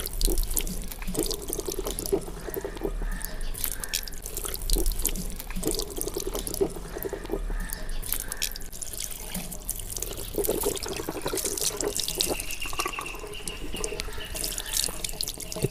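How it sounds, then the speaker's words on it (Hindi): Tap water runs steadily from a faucet into a sink while both hands are washed up to the wrists for ablution, a continuous splashing flow with dripping, close by and with no talk. "सबसे पहले दोनों हाथ जो हैं वो अपने गिट्टों तक धोने हैं"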